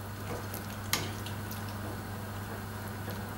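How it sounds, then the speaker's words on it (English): Rabbit stew in a pot makes a quiet, steady bubbling and sizzling as it simmers, with a soft clink near the start. "So we're just going to bring this to the boil now for about 10 minutes and let it just simmer away"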